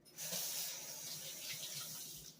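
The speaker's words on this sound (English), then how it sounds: "let me wash my hands" Tap water runs steadily into a kitchen sink as hands are washed, a continuous close hiss and splash that starts abruptly and fades at the end.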